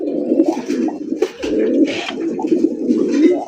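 Fancy pigeons, including racer, golla and giribaz types, coo close by at a pigeon seller's, with dense overlapping throaty calls that sound almost continuously.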